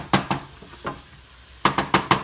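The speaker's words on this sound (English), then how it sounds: "you can see the onions totally deglaze the pan" Onions in a hot pan as they deglaze it for a Southern chicken fricassee, with short bursts of sizzle and stirring scrapes, a few at the start and a cluster near the end, close by.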